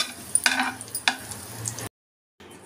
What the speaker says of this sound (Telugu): పుదీనా చట్నీకి తాలింపు